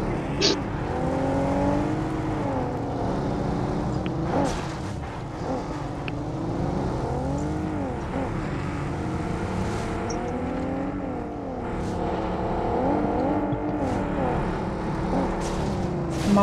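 A car engine in a video game drones continuously with wavering revs rising and falling as it drives, while voices talk over it at times.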